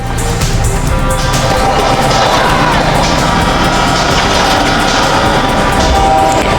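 A loud, steady rumble of a passing train in Grand Theft Auto V fills the whole stretch, dense and continuous with a noisy, game-like mix.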